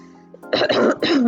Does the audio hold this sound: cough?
yes